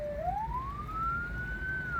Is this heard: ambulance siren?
yes